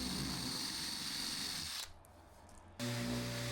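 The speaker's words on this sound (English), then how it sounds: "I'm just countersinking that at the back." A power drill runs steadily while countersinking a hole in the underside of a woodworking piece, with a brief drop in pitch and load near the middle before the motor resumes at full speed.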